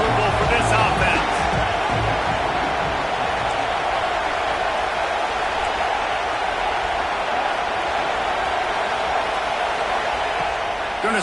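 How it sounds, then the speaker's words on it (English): A stadium crowd of football fans roars continuously at a loud indoor game, a dense sustained wall of cheering and noise that never lets up, with a broadcaster talking over it throughout. "These fans are going absolutely nuts."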